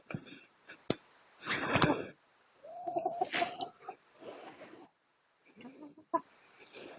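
Hens and young pullets cluck and squawk close by in a coop, with short bursts of calls separated by brief quiet gaps and a sharp knock or two in between.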